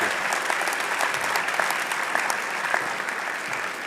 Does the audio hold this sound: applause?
yes